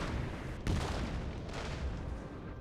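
Cannon fire in a Napoleon: Total War battle booms out in heavy, rolling blasts over a constant rumbling din. A sharper shot stands out early and further booms follow.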